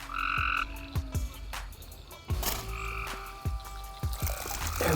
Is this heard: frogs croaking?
yes